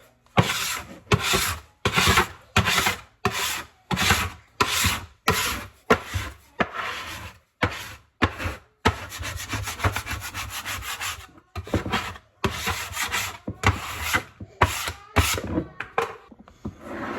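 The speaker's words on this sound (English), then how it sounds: "This bench scraper is dual purpose because it also really helps me clean off this counter." Bench scraper scraping a kitchen counter clean during sourdough baking: close, rhythmic rasping strokes, about a dozen regular passes, then a longer continuous scrape and more quick strokes.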